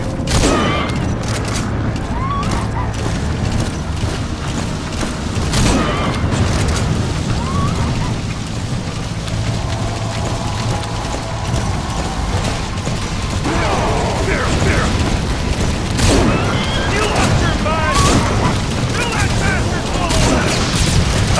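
Gunfire and explosions in Metal Gear Solid V: The Phantom Pain, with repeated sharp shots and booms over a busy game soundscape while people talk excitedly throughout.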